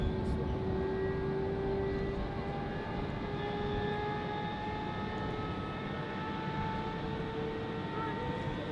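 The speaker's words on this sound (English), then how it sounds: "They have an A320neo and the A330 with the red nose during the Christmas season." An Airbus A330 with a red Christmas nose moves at Zurich Airport, its jet engines giving a steady, loud roar with sustained tonal whine throughout, without clear speech.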